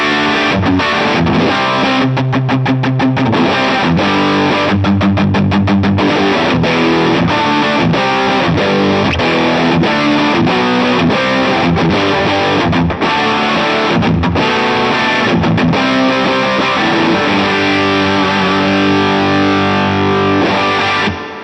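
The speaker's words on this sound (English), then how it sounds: "Okay, now I'm going to go to the distortion, which is the JHS AT." Electric guitar played through a JHS AT distortion pedal, loud saturated and compressed chords with choppy muted rhythmic bursts early on, then sustained ringing strums, all alone without any talking.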